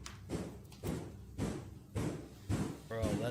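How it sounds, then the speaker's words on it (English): A cupboard door knocks in a regular sequence of five or six heavy thuds roughly half a second apart, close and fairly loud, with voices speaking throughout. "Soon after, a cupboard door begins to knock as well."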